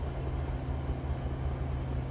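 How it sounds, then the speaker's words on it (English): A steady low rumble of a CSX work train idling nearby, deep engine drone holding constant with no talk. "I caught up with the southbound work train"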